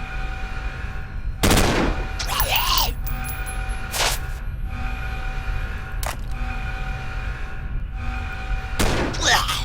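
Rifle shots in the sci-fi tactics video game Stellar Tactics: a handful of sharp, separate bursts spaced a few seconds apart, each loud against a steady hum of game ambience.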